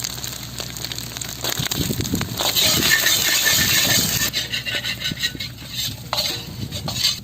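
Finely chopped onions sizzle and crackle steadily in oil in a pan, a loud hissing fry with occasional stirring scrapes, no voices.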